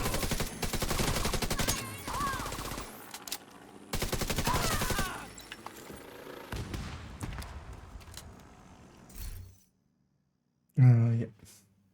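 Bursts of video game gunfire crackle in rapid strings during an afternoon stream session, with loud volleys separated by brief lulls and a final sharp burst near the end, while a player talks over the shooting.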